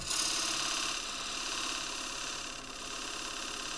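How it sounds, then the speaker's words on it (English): Tip of a skew chisel pressed gently into a spinning lathe-turned casuarina wood bowl to cut a shadow line, a faint, steady high scraping hiss over the lathe's low hum, continuous and slow. "So I just use the tip of a skew and I gently press in."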